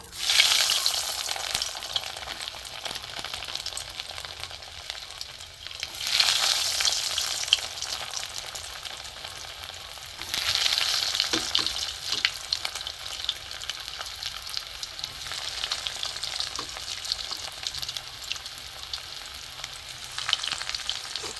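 Breaded catla fish balls fry in hot oil, a continuous dense crackle and sizzle close up that swells in several waves as more pieces go in, with occasional light clinks.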